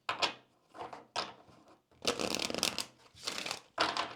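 A deck of Kipper cards is shuffled for a tarot reading: a series of close, crisp riffling and flicking bursts with short pauses, the longest burst in the middle, with no voices.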